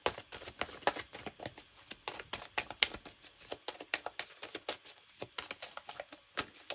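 Tarot cards being gathered and shuffled, a quick run of crisp, papery riffles and taps in an irregular patter, close and fairly quiet with no talking.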